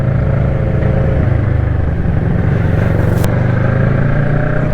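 A loud motorcycle engine drones and revs close by in London traffic, its low rumble rising and shifting, with road noise throughout.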